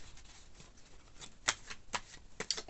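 Tarot cards are shuffled by hand in a quiet room, soft riffling and papery slaps at an uneven rhythm, close and faint with no talk.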